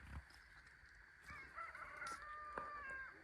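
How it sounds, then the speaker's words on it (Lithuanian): A rooster crows at dawn near a tent camp in the Polish mountains, one long drawn-out call rising and holding, moderately distant over quiet outdoor ambience. "Gaidys žadin jau."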